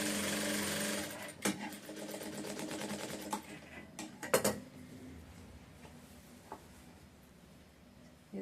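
A sewing machine stitches a blouse border in rapid mechanical bursts, starting loud and fading into intermittent clicks and handling knocks of fabric and parts.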